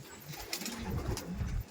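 Low, rolling coos from pigeons in a racer pigeon loft, a short burst of overlapping calls close by with faint rustling behind.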